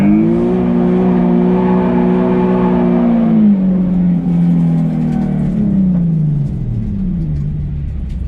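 A drift car pulling away in first gear and accelerating to about 30 mph, its engine note droning steadily and then sweeping downward as the clutch goes in and the e-brake is pulled for the turn, loud and close, with no talking.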